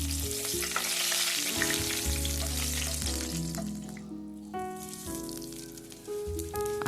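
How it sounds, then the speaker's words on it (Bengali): Whole spices tempered in hot oil for a home-cooked festival offering meal, giving a steady close sizzle and crackle throughout, with occasional clinks of a stirring utensil and a brief watery splash. "তেল গরম হয়ে যাওয়ার পর আমি ফোড়ন দিয়ে দিচ্ছি"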